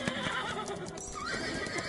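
A horse in a Roblox wild west game lets out a loud whinny over steady clip-clop hoofbeats, the neigh rising and wavering near the middle of the moment.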